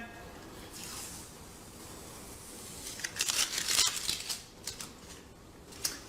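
Masking tape peeled off a repaired wood floor, a quiet crackling rip that swells in the middle and fades, with a sharp tick at the end.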